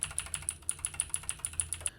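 Keys click steadily on a new RGB computer keyboard, about a dozen crisp, evenly spaced taps close to the microphone, with no voices.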